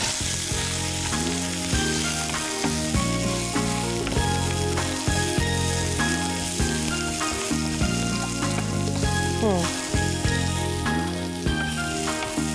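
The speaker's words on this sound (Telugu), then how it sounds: "ఉల్లిపాయ ముక్కలు కూడా ఇవన్నీ వేసి ఒకసారి అలాగ కొద్దిగా వేగేంత వరకు కలుపుకోవాలన్నమాట" Chilies, garlic, curry leaves and sesame seeds fry steadily in hot oil for a gongura flower pickle, a loud continuous sizzle with occasional stirring scrapes throughout.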